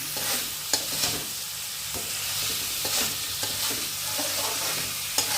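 Pre-fried prawns stirred with spice paste in hot oil for a coconut prawn curry, giving a continuous close sizzle with soft scraping strokes and a few clinks of the spoon against the pan.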